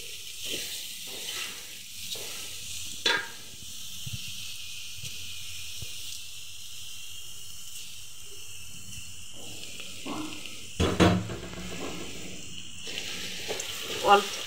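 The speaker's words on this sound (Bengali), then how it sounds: "এখন আমি পেঁয়াজগুলো একটু ভেজে নেব" Onions fry in oil with a low, steady hiss and occasional stirring clinks and scrapes, close and fairly quiet, with a few louder bursts of handling noise.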